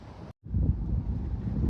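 Strong storm wind buffets the microphone with a low, rumbling roar after a brief dropout, steady and close.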